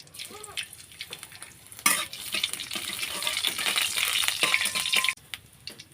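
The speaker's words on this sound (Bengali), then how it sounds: "জিরাটা একটু ভালোভাবে ভেজে নেব।" Cumin and chopped ginger sizzle in hot oil in a village kitchen as a sudden loud frying hiss bursts in and holds steady for about three seconds, with soft stirring and utensil scrapes before and after.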